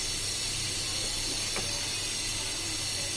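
Meat hits hot spiced oil with fried onions for a Bangladeshi kala bhuna tempering, giving a steady, fairly loud sizzling hiss that holds for a few seconds.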